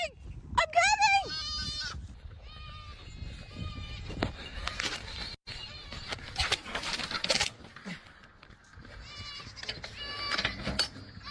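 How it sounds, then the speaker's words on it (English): A goat in the video game Arelith, a Neverwinter Nights server, gives a loud, wavering bleat near the start, followed by fainter bleats among game noises and speech. "Put the goat down!"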